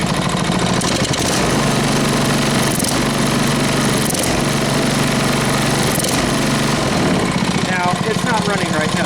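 A small tiller engine runs steadily after a carburetor replacement, a loud, continuous mechanical drone with rough, uneven firing and vibration throughout, close to the machine.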